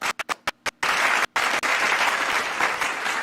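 Round of applause from a small group, a few separate claps at first that quickly swell into steady, close clapping.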